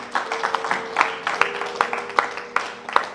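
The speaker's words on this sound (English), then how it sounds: "Y'all give Jesus a hand clap." A church congregation clapping together during a worship service, a steady run of sharp hand claps at a regular beat, with a sustained tone held underneath, moderately close.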